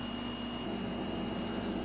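Vacuum cleaner running in a living room, a steady loud whining drone with a constant tone, close and unbroken throughout, no talk.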